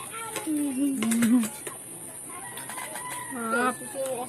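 Native chickens kept in a cage cluck and call in short, close bursts, with a few higher squawks, while people talk nearby.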